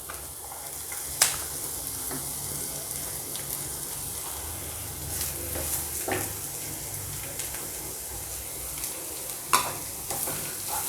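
Spring onion whites sizzle and fry in a hot pan with onion for a veg Schezwan snack. A steady crackling hiss runs throughout, with occasional scraping stirs and sharp clinks, close up and without voices.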